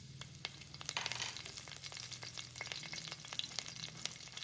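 Curry leaves hit hot vegetable oil with a close, crackling sizzle full of sharp pops and spits, steady for a few seconds with no voices.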